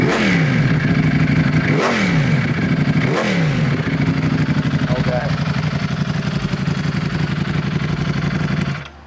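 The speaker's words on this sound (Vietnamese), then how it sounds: "để đề máy cho anh em nghe thử cái tiếng máy ha" A Ducati Streetfighter V4S or KTM Super Duke 1290 R superbike engine firing up and running loud and close, with two sharp throttle blips that rise and fall, then a steady rumbling idle that cuts off abruptly at the end.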